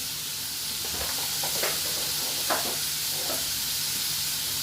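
Prawns stir-frying with ginger, chilli and spring onion give off a steady, soft sizzle and hiss, with a few brief clinks and scrapes of stirring rising over the constant frying noise.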